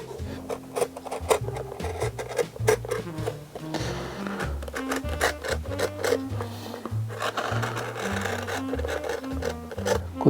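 A high-end leather shoe being cut apart by a shoemaker, close scraping and rasping strokes of a blade through leather and stitching, rhythmic and continuous, with music playing underneath.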